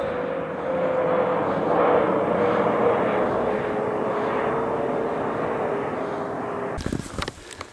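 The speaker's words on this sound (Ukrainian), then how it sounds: "Він прямо тут літак полетів." An airplane drones steadily overhead, a broad engine rumble holding for several seconds before an abrupt clattering noise cuts in near the end.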